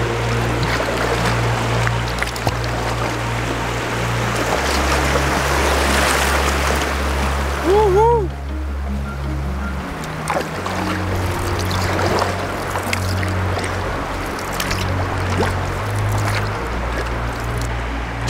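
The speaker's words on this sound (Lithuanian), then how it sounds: "Mažiukas, bet krioklys." A small waterfall over a stony stretch of riverbank in Romania gives a steady rushing wash of falling water, with a low engine-like drone underneath and brief tonal chirps near the middle.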